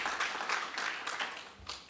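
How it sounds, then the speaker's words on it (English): An audience at a university public health division launch gives a round of applause, a soft, steady wash of clapping heard from a distance. "Can we give a round of applause?"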